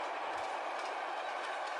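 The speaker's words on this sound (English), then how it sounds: "Through the countryside chugs the powerful freight train." A long yellow freight train pulled by two engines rumbles past through open countryside, a steady, dense rolling roar with faint rhythmic rail clatter, fairly loud and continuous, with no voices.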